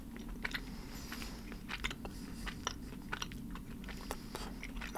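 Close, quiet chewing of sticky Sour Patch watermelon gummy sweets, a steady wet mastication with scattered small crunchy clicks over several seconds.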